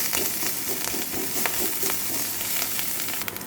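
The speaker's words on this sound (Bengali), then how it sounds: "এবার মাথাগুলোকে খুব ভালো করে ভেজে নেব" Fish heads seasoned with salt and turmeric fry loudly in hot oil, a close, dense crackling sizzle with rapid popping and occasional stirring scrapes throughout.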